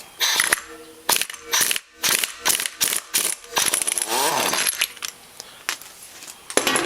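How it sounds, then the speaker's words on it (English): A Foreman 500 motor being disassembled: metallic ratcheting and clicking as the nut is removed from the change clutch, rapid tool clatter in uneven bursts, close and fairly loud. "we're going to take that nut off of the change clutch there"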